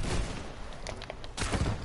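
Rapid bursts of gunfire from a video game duo match with SMGs, sharp shots crackling in clusters over a steady noisy background.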